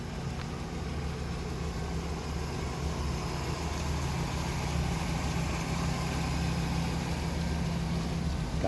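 A 1996 Chevy Silverado C1500 pickup idles steadily with its factory exhaust, a continuous low rumble holding an even level throughout, with no voices.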